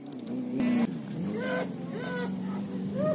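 A tractor labours inside a cow shed on a farm in Saudi Arabia, its engine drone steady and close with pitch swells as it revs, carrying on without pause.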